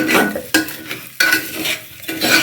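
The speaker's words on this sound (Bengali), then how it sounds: "এই চালটা আমি হালকা করে একটু ভেজে নিচ্ছি" Rice being lightly fried in a pan for pulao, a spatula stirring and scraping the grains in quick strokes with a gentle sizzle underneath, two sharp knocks against the pan, close and without speech.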